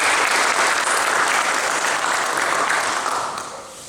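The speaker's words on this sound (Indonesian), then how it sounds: "Kita belum berikan apresiasi dan sekaligus kita aplaus untuk Pak Haji Muslim" An audience applauds a guest, Haji Muslim Mirza, at an archery-community gathering in Siak, a dense, steady wash of clapping throughout that fades slightly toward the end.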